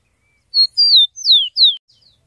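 A rufous-collared sparrow (tico-tico) sings loud and close, with four or five clear, high whistled notes falling in pitch, then a faint trailing flutter, all against silence.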